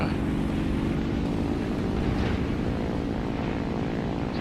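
A Fw 190 A5 fighter and other propeller aircraft drone through the sky in a flight video game, a loud, steady, unbroken engine roar with no pauses or talk.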